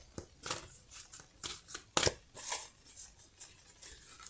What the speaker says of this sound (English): Let me give a couple more shuffles.